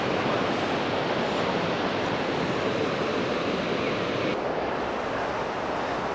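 Water rushing over a river weir at Stratford-upon-Avon, a loud, steady roar that fills the whole stretch without pause, with no voices on top.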